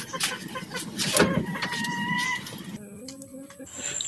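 Chickens cluck and call while feeding on homemade feed mixed with coconut meal and rice bran, with a busy, close farmyard clatter throughout.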